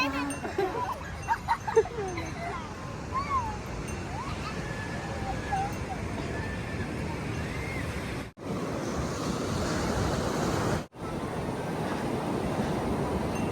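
Sea waves wash steadily onto the shore at Gokarna beach in India, a broad continuous surf roar with wind buffeting the microphone, and people talking faintly early on.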